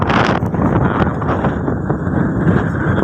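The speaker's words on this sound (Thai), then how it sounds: "ตอนนี้ลมกำลังมาครับ" Strong wind gusting outdoors before rain, buffeting the microphone with a steady, loud roar and rumble throughout, no voices.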